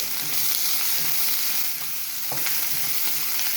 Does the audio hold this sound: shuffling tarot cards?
no